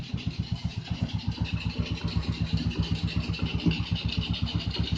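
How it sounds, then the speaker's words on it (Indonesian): A 2003 Yamaha Jupiter Z motorcycle engine idling close by after starting, a steady, rapid, even thumping pulse that stays loud and constant throughout with no voices. "Oke, mesin nyala."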